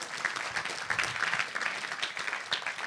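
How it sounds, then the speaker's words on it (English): An audience at a leadership and mindset talk claps for a volunteer returning to her seat, a moderate, fairly even round of applause with a few sharper claps standing out and no talk on top. "Let's give her a round of applause, too"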